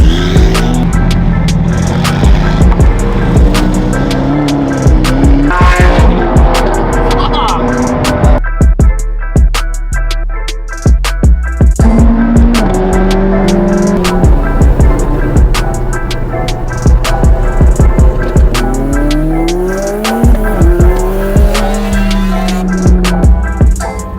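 Audi R8 and other exotic sports cars driving on a group run. Engines rev loud and close with repeated shifts and tire noise, and people talk over the cars.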